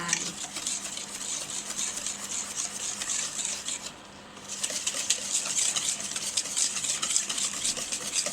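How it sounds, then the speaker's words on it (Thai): A whisk beats a salad dressing mixture to dissolve sugar, giving a continuous, close, rhythmic scraping and swishing against the bowl, with a brief pause midway before the whisking resumes. "แล้วเราก็ตีค่ะคนนะคะให้ส่วนผสมทุกอย่างเข้ากันให้น้ำตาลละลายนะคะให้น้ำตาลทรายละลาย"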